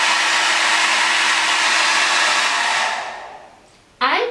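A hair dryer blows loudly and steadily at close range over eggs frying in a pan, then winds down after about three seconds. A brief clatter follows.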